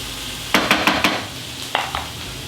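Peppers and jalapeño sauté in a pan for shakshuka under a steady sizzle, with a quick run of four sharp spatula scrapes and clinks followed a moment later by a few more, close and fairly loud.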